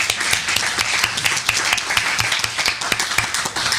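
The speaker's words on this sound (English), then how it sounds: "A round of applause for David." An audience at a debate on whether God exists breaks into applause for a speaker being introduced. Dense, steady clapping fills the room loudly throughout, with no voices over it.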